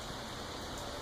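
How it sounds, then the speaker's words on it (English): Steady rain falling, a continuous even hiss that stays constant and moderately quiet throughout, with no talk. "it's raining right now."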